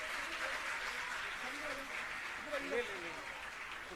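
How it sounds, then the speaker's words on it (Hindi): A crowd at the opening of a School of Specialised Excellence in Dariyapur village, Bawana, applauds in a soft, continuous wash, with voices faintly audible over it. "आप अपनी खुशी अपनी जोरदार तालियों से सर तक पहुंचाते रहें"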